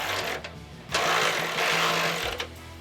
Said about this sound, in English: I'll go ahead and tighten up the bolt running through the cross member.